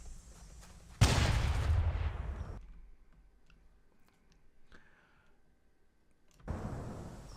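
Pistol fire in the modded video game Cursed Halo: a loud blast-like burst of game gunfire that decays over about a second and a half, quiet gaps with faint clicks, then another loud burst at the end.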